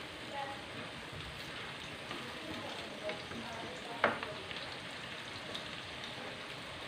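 Onions fry in a pan until brown, a faint, even, rain-like sizzle with a single sharp utensil tap midway and no other sound standing out.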